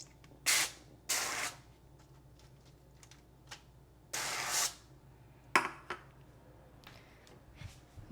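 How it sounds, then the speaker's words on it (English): Cooking oil sprayed onto both sides of a salmon fillet in a home kitchen: several short hissing bursts of aerosol spray, some brief and some longer, with quiet pauses between them and no talking. "So I'm just going to spray a little oil on both sides."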